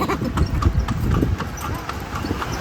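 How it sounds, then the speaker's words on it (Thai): Horse hooves clip-clop steadily on a city road as a horse pulls a carriage in Lampang, a close, even rhythm of hoofbeats with people talking over it. "เสียงม้าไง"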